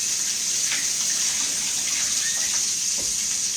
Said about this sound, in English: let me rinse my fingers off